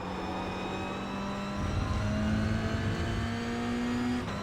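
A Toyota GR86 engine in the iRacing sim drones steadily at mid revs, then climbs in pitch as it accelerates, holding a rising, close, continuous note with no talk over it.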